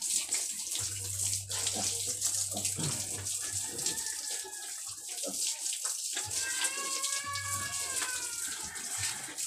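Water splashes and pours in uneven gushes while a small piglet is washed, close by, with a low humming engine in the background and people talking between pours.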